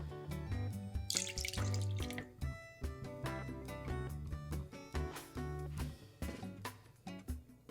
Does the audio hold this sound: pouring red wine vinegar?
yes